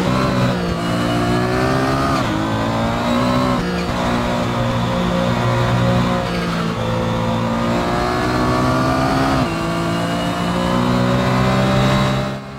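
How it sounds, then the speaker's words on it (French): Racing game engine of a 1998 Porsche 911 GT1 at Montmeló circuit near Barcelona in Assetto Corsa, loud and sustained, with rising revs broken by repeated gear shifts. "On est du côté de Barcelone sur le circuit de Montmeló avec eh bien la Porsche 911 GT1 de 98"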